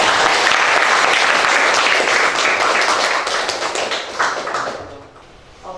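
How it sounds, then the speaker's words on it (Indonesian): A class of students applauding after a presentation in a school classroom, dense steady clapping that fades out toward the end, with no speech. "Kita aplaus dulu."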